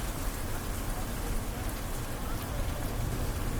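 Steady rain falls at Qutub Minar in Delhi around the iron pillar in the evening, an even, dense hiss of drops on stone, close and continuous with no other sound.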